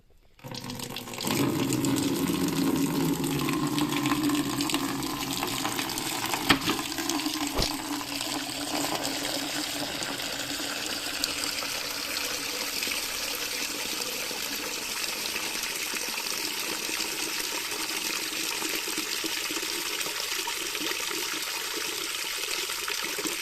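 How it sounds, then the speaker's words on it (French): An Olight Odin flashlight is plunged into a bucket of water mixed with leftover cement, setting off a steady rushing, gushing wash of water that holds at a constant level and continues close-up for about twenty seconds. "On va maintenant l'immerger dans l'eau."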